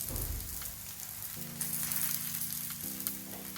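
Thalipeeth roasting in ghee on a hot pan for a fasting recipe, a steady close sizzle and crackle of frying running throughout with a low hum underneath.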